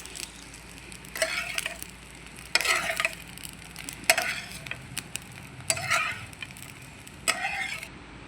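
Green chillies frying in a pan for a tomato chutney are stirred in several separate bursts of scraping and clattering over a faint continuous sizzle, close by and without speech.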